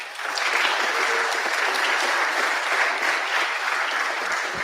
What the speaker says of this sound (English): Let's give a round of applause to Millard Southern